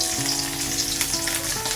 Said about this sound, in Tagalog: Nagpiprito ba ako ng fried chicken na isda, love, oh?